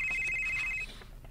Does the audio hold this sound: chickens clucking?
no